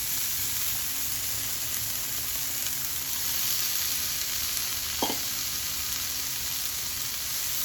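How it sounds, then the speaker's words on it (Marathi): Bitter gourd frying in a pan with oil and a little salt, a steady, close sizzle throughout, with one brief clink of a utensil partway through. "हे मिक्स करून घेतले यामध्ये टाकणार आहे मी हे कारलं"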